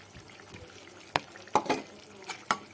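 Boiled, shredded chicken is stirred into spice paste in a pan, giving a few scattered scraping and wet mixing knocks, close and soft, with irregular gaps between strokes.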